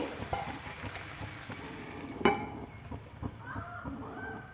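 Ridge gourd pieces fry in hot oil in a pan, a steady close sizzle and crackle with a sharp utensil clink midway and soft stirring sounds, no voices.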